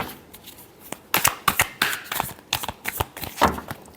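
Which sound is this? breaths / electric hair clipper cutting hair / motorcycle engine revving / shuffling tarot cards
shuffling tarot cards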